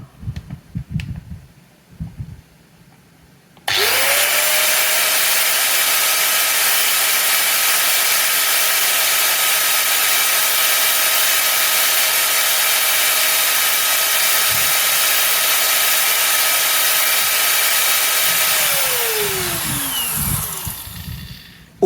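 An electric DCK KSM 14-100 angle grinder motor spins up sharply and runs at a steady high whine for about fifteen seconds, then winds down as the pitch falls away.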